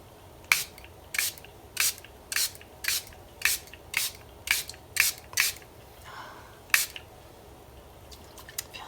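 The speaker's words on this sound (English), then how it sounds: "It's a nice fine mist." Cosmetic fine-mist face spray pumped repeatedly, about a dozen short, sharp hissing spritzes in a fairly even rhythm, close and alone, with a faint rustle between the last bursts.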